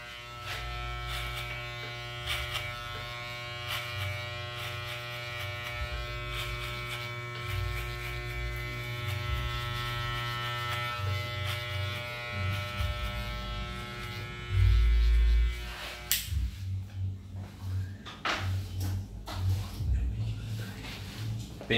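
Electric hair clipper with a 1.5 comb guard cutting hair during a fade haircut; a steady, close, harmonic motor buzz runs for about fifteen seconds, then cuts off, leaving faint handling noises.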